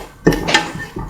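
Garam masala spices stirred in a pan for a duck coconut milk rice dish: a few scraping, clinking strokes of a utensil against metal, close and moderately loud, with quiet gaps between.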